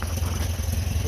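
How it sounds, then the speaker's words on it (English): A Pinzgauer engine idles close by with a steady low rumble and a slight stumble in its rhythm, running alone without talk. "Check the exhaust here. Got a bit of a stumble."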